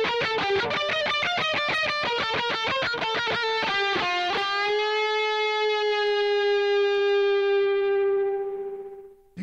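An electric guitar picks a rapid run of single notes through a Positive Grid Spark 2 amp on a high-gain setting, then holds one long sustained note that slowly fades away.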